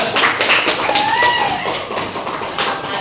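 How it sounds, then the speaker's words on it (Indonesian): A classroom group claps in applause, with a dense stretch of many hands clapping together at close range that keeps going at a steady level with a few voices mixed in. "Berikan tepuk tangan pertama dan kedua."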